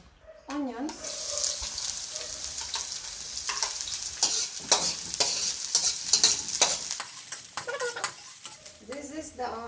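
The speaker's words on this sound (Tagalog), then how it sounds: "This is the oil and onions." Onions fry in hot oil in a pan for a Filipino laing dish, giving a loud, steady sizzle with repeated stirring scrapes and clatters close by, running continuously throughout.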